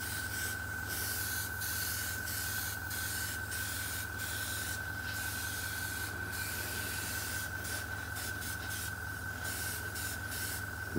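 An airbrush sprays paint onto the underside of a 1/35 scale HobbyBoss IDF Nagmachon model tank chassis, giving short hissing bursts over a constant steady tone and a low hum.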